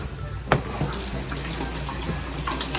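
Tap water runs steadily into a kitchen sink as hands are washed before cooking, heard at moderate level with a few clinks and light background talk.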